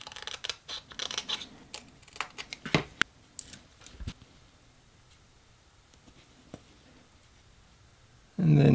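Scissors snip through a small lure eye sticker in a quiet room, a cluster of sharp close clicks and cuts in the first few seconds, then near silence before a sudden loud rustle at the end.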